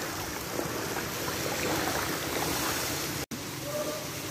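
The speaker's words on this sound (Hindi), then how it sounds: "पानी का फ़्लो आप देख सकते हैं वो गली से आ रहा है" Running water flows steadily from a street toward an open, blocked gutter drain during heavy rain, a continuous broadband rushing wash with a brief dropout near the end and a faint voice in the background.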